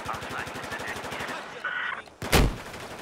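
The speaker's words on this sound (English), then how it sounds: "One light machine gun now. Who's shooting?" Light machine gun in Battlefield 4 firing a steady rapid burst of evenly spaced shots for about two seconds, followed by a loud nearby blast at the end.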